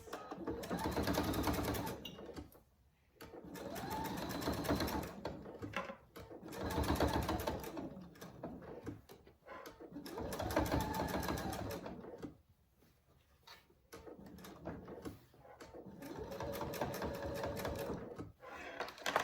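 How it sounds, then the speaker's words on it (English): A domestic sewing machine stitches a square with an X inside across a fabric dog collar, running in several long bursts of steady, rapid needle chatter separated by short pauses; close and fairly loud, with no talking. "I'm going to sew like a square and then an X in the middle, like this."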